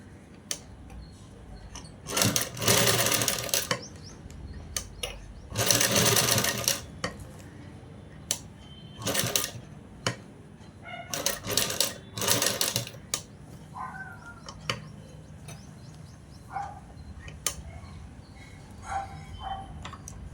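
A sewing machine stitching a blouse, with several loud, rapid mechanical bursts of stitching separated by pauses and softer clicks and handling sounds between them, close by.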